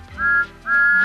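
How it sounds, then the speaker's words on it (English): A cartoon steam engine whistle gives two bright, high tones, each held for a moment with a short gap between them, loud and close. "And Thomas always whistles peep,"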